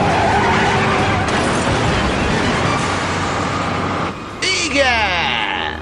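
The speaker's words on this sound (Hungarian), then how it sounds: "Fékezz már most!" A car in an animated series brakes hard and skids, a loud grinding screech that rises and sweeps sharply near the end, with engine roar underneath.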